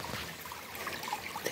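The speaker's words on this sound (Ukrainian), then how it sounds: "А тут таке джерело." Spring water trickles steadily at the entrance of a tunnel ravine in Dnipro, a soft continuous burble with small bright droplet sounds, close by and fairly quiet, with no one talking.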